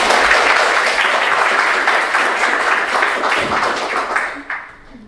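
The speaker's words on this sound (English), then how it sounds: "a big round of applause for Jabeen," A conference audience breaks into applause for a speaker's lightning talk, a dense, loud wash of clapping that holds steady before thinning out and fading near the end.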